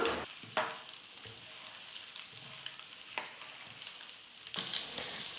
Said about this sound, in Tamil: பொட்டுக்கடலையும் இப்போ நம்ம வறுத்து எடுத்துக்கலாம்